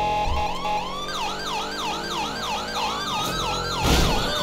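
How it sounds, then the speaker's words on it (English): A loud police siren wails in a fast, repeating yelp pattern, close by and continuous, ending with a brief burst of noise. "Hope you guys enjoy the new sirens as well."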